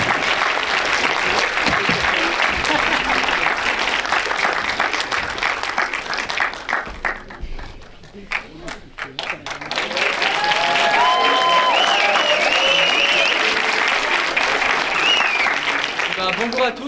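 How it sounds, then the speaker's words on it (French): A crowd at a small-town award ceremony applauds loudly for a prize winner, with dense sustained clapping that dips briefly midway and swells again, and voices and cheers mixed in. "On peut applaudir Amaury Lacour."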